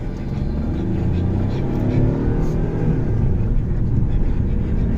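A small-engined Hyundai Xcent car accelerates with a steady, loud engine drone that builds slightly over five seconds, heard from close by without talk.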